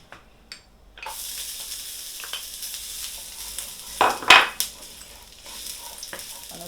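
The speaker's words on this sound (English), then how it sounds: "We're going to be frying our garlic and ginger first." Garlic and ginger dropped into hot oil for a tofu and broccoli stir fry, a sudden sizzle that holds steady with stirring clatter and a few sharp clicks near the pan.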